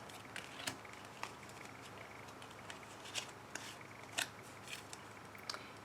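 Tarot or oracle cards shuffled at close range, a run of light, crisp flicks and snaps repeating irregularly against a faint steady hiss, with no voices.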